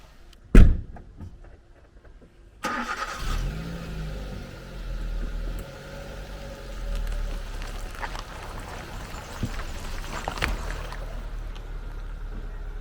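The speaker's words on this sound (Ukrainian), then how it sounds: "давайте я зроблю такий краш-тест, попробую його переїхати" A car drives over a Dnipro-M flashlight lying in a swamp: a sharp knock, then a steady engine rumble with wet sloshing and occasional bumps, fairly close.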